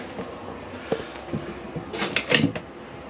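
Cutlery drawer pulled open in the kitchen of a 2021 Chausson 640 SE motorhome, a soft slide then a quick cluster of clattering knocks and rattles near the end, close and moderately loud with no talk.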